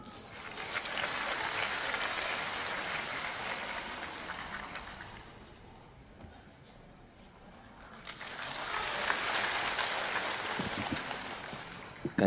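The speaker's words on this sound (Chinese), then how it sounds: "感谢您的掌声鼓励" Audience applause at a crosstalk comedy show marking a troupe's 25th anniversary celebration, a sustained roar of clapping from a full hall that dips briefly in the middle and then swells again.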